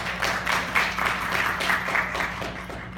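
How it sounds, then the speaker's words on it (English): An audience at a women-in-business evening event gives a round of applause for the sponsors, a dense, moderately loud burst of clapping that continues steadily for about three seconds. "So a big round of applause for all of our sponsors."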